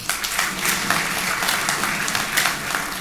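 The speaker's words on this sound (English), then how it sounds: "Please, a round of applause for Mama." Audience at a graduation ceremony for an executive intelligence management course gives a dignitary a continuous round of applause, many hands clapping at once in a steady, fairly loud wash.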